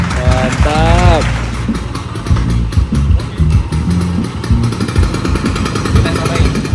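A motorcycle engine starts up and runs with a rough, rapid chugging idle close by, preceded by a brief starter whine, while people talk over it.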